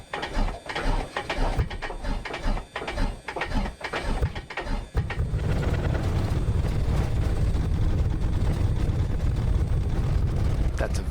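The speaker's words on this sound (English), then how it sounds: "I just want to demonstrate how the cold affects how this engine runs. Here we go. Crack the throttle." A cold aircraft engine cranks and coughs through several uneven chugging pulses in Microsoft Flight Simulator with A2A Simulations, then catches into a steady, loud, continuous rumble.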